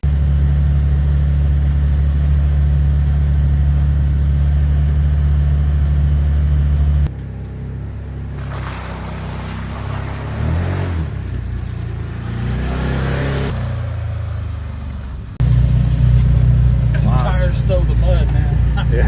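A 2023 Can-Am Defender HD10 XMR side-by-side drives a muddy trail, its engine a steady low drone that shifts and surges midway before settling back, with people talking over it.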